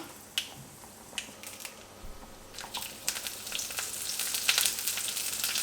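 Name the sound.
broken dried red chillies frying in coconut oil with mustard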